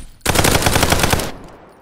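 A loud, rapid burst of automatic gunfire in the co-op VR shooter Contractors, about a second long with evenly spaced shots, then a fading tail.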